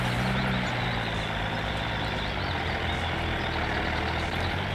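A tractor-type farm vehicle reversing in a farming video game, a loud steady engine drone with a low rumble and brief tonal beeps near the start, no speech.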